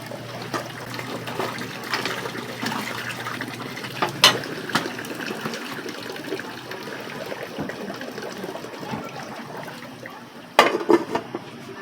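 Chicken tinola broth boils in a pot, a continuous bubbling and simmering wash with occasional louder clinks of utensils against the pot, heard up close for several seconds.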